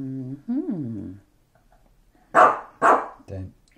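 A dog barks twice in loud, close bursts with a short yelp after, in a home kitchen where a corned beef mash is being assembled, following a stretch of talk.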